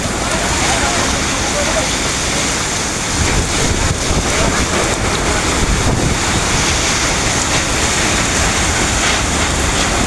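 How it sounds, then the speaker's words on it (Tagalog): Strong typhoon wind roars and buffets constantly in Sariaya, Quezon, with rushing gusts and a rough, noisy texture throughout, loud and unbroken. "lakas ng hangin"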